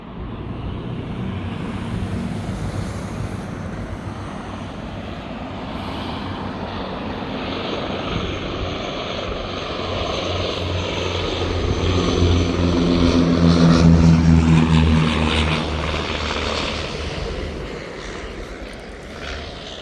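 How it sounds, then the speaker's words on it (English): A twin-propeller airplane comes in to land near Evans Bay, its propeller drone building from a distant hum to a loud pass, then easing away. "Let's watch the airplane land."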